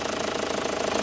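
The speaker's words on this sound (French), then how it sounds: "le moteur, écoute bien, il tourne bien" A 2.2 DTI diesel engine in an Opel Astra G idles with a steady, close, even chatter and a faint rhythmic knock, with no one talking.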